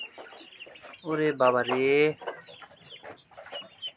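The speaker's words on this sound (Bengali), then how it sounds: "আমার হাঁসের বাচ্চাগুলো কি অবস্থা?" Ducklings peep and chatter in a shed at night, with a constant high insect drone behind them. A person briefly exclaims over the birds partway through.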